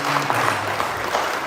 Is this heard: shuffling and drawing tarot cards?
no